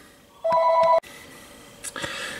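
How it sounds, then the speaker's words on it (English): A telephone rings once with a steady electronic double-tone burst, close and fairly loud, then stops abruptly, leaving quiet room sound and a faint rustle afterward. "Excuse me a moment, phone's ringing."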